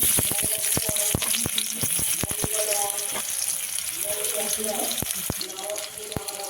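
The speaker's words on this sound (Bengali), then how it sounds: "পেঁয়াজটা একটু লাল লাল করে ভাজা হয়ে গেছে" Steady oil sizzle and crackle of chopped onion frying in a kadai, with scattered sharp clicks and clatter of utensils throughout.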